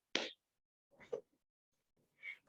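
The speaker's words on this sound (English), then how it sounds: "first I have to adjourn this meeting by clapping thrice" Three hand claps to adjourn a Toastmasters club meeting, sharp and separate, spaced about a second apart and fairly faint, with no talk over them.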